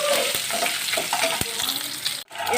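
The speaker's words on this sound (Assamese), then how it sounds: "তেলখিনি যিখিনি আছিলে সেইখিনি অকণমানকৈ ভাজি ল'ম সামান্যকৈ" Pork fat frying in mustard oil in a wok, a loud, steady sizzle with a few stirring knocks, briefly cutting out near the end before resuming.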